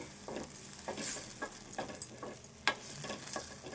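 Tomato frying in a pan gives a soft sizzle with intermittent stirring scrapes and light taps, close but quiet, no voices.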